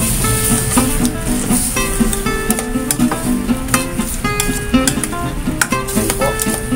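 Sotanghon glass noodles with squid sizzling loudly in a hot pan while being stirred, a dense continuous crackle with frequent metallic scrapes and clanks of the spatula against the pan.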